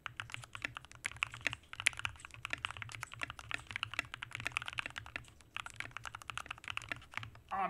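Rapid, uneven keystrokes on a rebuilt mechanical keyboard during a typing test, close and fairly quiet, a busy stream of clicks with brief pauses and no talking.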